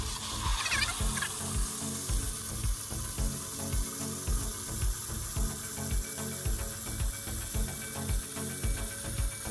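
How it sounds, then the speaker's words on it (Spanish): Water runs steadily from the hot-water tap of a newly installed solar water heater, mixed with a rhythmic mechanical clicking and thumping that repeats through the whole stretch; no talking. "está dando agua el calentador solar"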